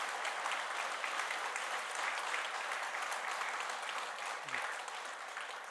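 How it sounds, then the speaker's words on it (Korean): A church congregation at a retirement and honorary pastor ceremony claps together in steady, continuous applause for the pastor and his wife, moderately distant and even in level from start to finish. "우리 모두 목사님과 사모님께 힘찬 건강의 박수를 한번 우리 다 함께"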